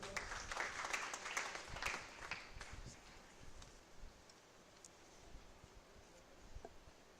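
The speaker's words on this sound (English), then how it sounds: "Huge round of applause." Audience applause at an international conference, steady clapping from a crowd that swells in the first few seconds and then slowly thins toward the end, with no voices over it.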